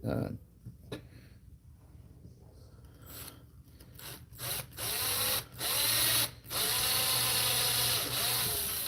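Small drill boring a 1/8 inch hole into the back of a lure head: short whirring bursts start partway through and become a steady close drone near the end, after a quieter opening with faint rubbing.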